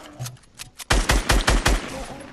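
Gunfire in a shooter video game: after a few faint shots, a close, loud burst of about five rapid rounds in quick rhythm, each with a heavy low thump.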